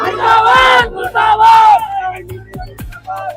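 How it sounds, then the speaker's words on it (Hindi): Angry mob of Bajrang Dal and VHP supporters shouting during a religious-conversion dispute in Raipur, loud massed voices in bursts, then quieter scattered shouts with sharp knocks near the end. "आपको बता दें कि भीड़ बहुत ज्यादा उग्र हो चुकी है।"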